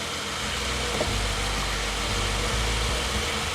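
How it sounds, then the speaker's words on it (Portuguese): A Ferrari engine in Modena turns over and settles into a steady low idle rumble, loud and close. "quando o motor arrancou, parecia uma sinfonia de uma orquestra"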